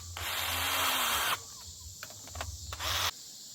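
A power tool tightens a fastener down with a loud, close whirring burst lasting over a second, followed by short clicks and two more quick pulses of the motor.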